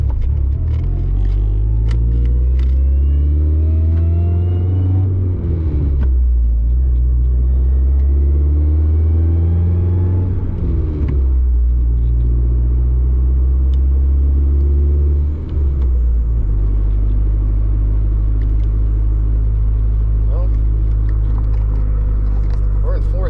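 A Dodge SRT4 with a newly installed Werks Stage 3R transmission drives along a road. Its deep engine rumble repeatedly rises in pitch, then drops as gears shift up and down, loud and continuous throughout.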